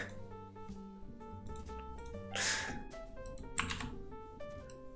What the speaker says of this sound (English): What was I typing just there?